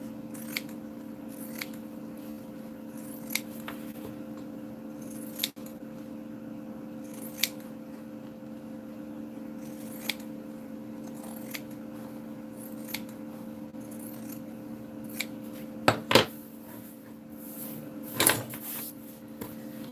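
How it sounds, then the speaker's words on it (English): Pinking shears snip through fabric in short, crisp cuts spaced every second or two over a steady low electrical hum, with a couple of louder handling rustles near the end; no one speaks. "I'm using pinking shears just because I have them"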